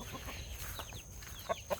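A chicken clucks in short bursts, with two sharper clucks near the end, close by over low background noise.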